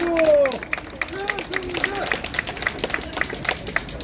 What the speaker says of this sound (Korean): 최승재 의원님께 다시 한번 박수 부탁드립니다